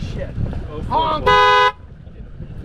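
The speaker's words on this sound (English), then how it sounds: "Blow the horn." A powerboat horn gives one short, loud honk on race night, with people talking just before it.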